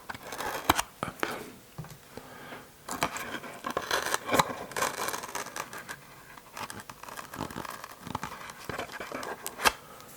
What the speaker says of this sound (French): Je vais juste couper ça.